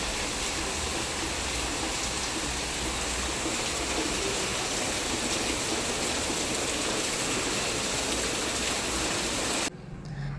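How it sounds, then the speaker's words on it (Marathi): Steady, dense wash of heavy monsoon rain outside a house roaring without a break for about ten seconds, then cutting off abruptly near the end. "बाहेर बघा किती पाऊस येतो"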